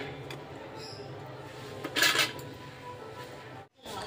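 Nikhuti sweets are stirred in hot sugar syrup in a pan, giving soft scraping and a bright cluster of metallic clinks midway before a brief drop to near silence.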